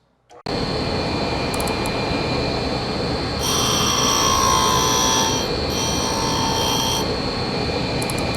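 A homemade reamer cutting in a hole, giving a steady harsh grinding whir that swells louder in the middle with a high, ringing chatter, then eases back to a constant machining drone.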